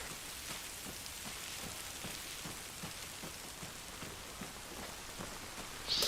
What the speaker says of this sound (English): Raining out there. It's raining in here too.